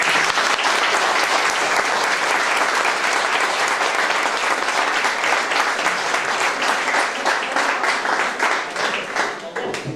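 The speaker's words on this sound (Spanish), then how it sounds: "un fuerte aplauso para ellos" Loud, sustained applause from an audience at an event in Igualada, with dense clapping that continues steadily for about ten seconds and thins slightly toward the end.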